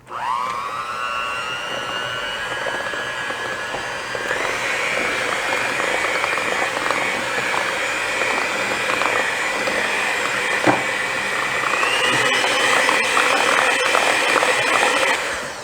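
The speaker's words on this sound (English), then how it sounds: "And then we'll get my trusty hand mixer here." Electric hand mixer beating apple pie cake batter, a sustained close motor whine that steps up in pitch partway through, with churning, slightly uneven texture from the beaters in the bowl and no talking.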